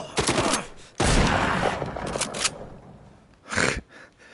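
Pump shotgun fire in The Walking Dead Saints & Sinners VR game: several loud blasts spaced a second or more apart, each with a booming decay, with no talk over them.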